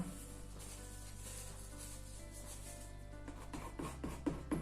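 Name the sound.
palette knife spreading paint on canvas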